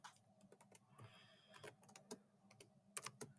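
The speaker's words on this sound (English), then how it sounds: "we need to type the string" Quiet keystrokes on a computer keyboard, an irregular patter of soft close clicks continuing for a few seconds with nothing else heard.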